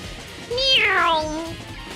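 A single drawn-out meow, rising then falling in pitch, loud and close; it is probably a person voicing the cat in a Danganronpa game rather than a real cat.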